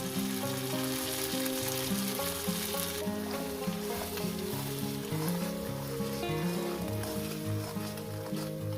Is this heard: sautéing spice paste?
yes